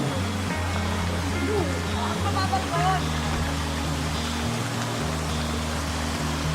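Mahogany Falls in Amadeo, a waterfall at a resort spring, gives a steady, broad rush of falling water that fills the clip from start to finish, with low rumbling tones underneath.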